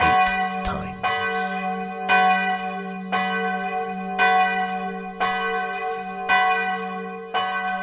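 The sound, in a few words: town hall bells tolling eight times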